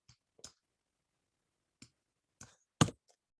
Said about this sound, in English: right click of your mouse and scroll down